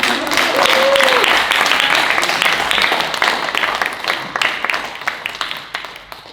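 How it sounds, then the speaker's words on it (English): An audience applauds and claps loudly at a show, the dense clapping fading gradually over several seconds while voices carry underneath. "give a big applause to our destruction man."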